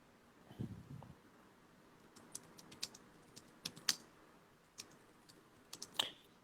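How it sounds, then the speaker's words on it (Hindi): Someone types on a computer keyboard nearby, producing sparse, irregular key clicks, with scattered single taps and short bursts, quiet against a faint room background, plus a soft thump near the start. "यहाँ कीबोर्ड टाइपिंग की आवाज आ रही है,"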